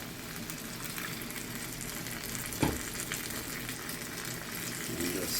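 Coconut milk stirred into shrimp curry in a pan, a steady bubbling sizzle with a soft thud and a few scraping stirs, close and continuous.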